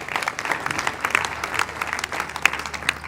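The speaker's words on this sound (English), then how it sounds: "Can we clap hands for the company" Audience at an investment seminar in Lagos clapping hands for a company, a loose, uneven patter of claps from a modest crowd, fairly close and moderately loud.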